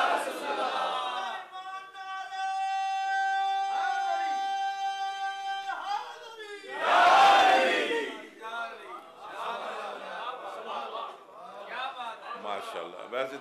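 A crowd at a religious gathering chants long, drawn-out slogans in unison, sustained tonal voices followed by a loud burst of shouting and then scattered voices.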